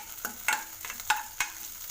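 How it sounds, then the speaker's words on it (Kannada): A pan of food sautés in a little oil while being stirred, with a soft sizzle under several sharp scraping and tapping strokes close by. "ಸ್ವಲ್ಪ ಎಣ್ಣೆಯಲ್ಲಿ ಬಾಡಿಸ್ಕೋಬೇಕು"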